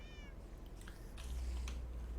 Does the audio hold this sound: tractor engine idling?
no